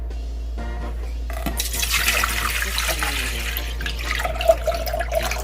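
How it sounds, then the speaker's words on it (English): Water pouring into a cooking pot from a tap, starting quietly and swelling into a steady loud splashing stream that continues to the end, alone without talk. "We're going to add 4 cups of water in there."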